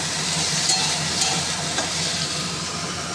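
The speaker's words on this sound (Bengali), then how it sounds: "এখানে কুমড়োটা ভেজে নিচ্ছি" Pumpkin pieces fry in oil in a pan for a mixed winter vegetable dish, giving a steady, moderate sizzle with a continuous soft hiss and no speech over it.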